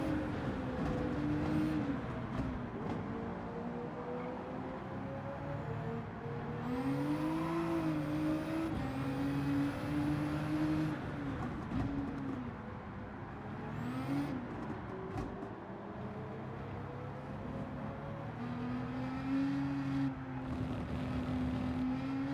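Race cars including a Nissan Nismo and LMP2 prototypes lapping Bathurst in Gran Turismo 7, a steady layered engine drone with rising and falling whines as revs change, continuous and loud throughout.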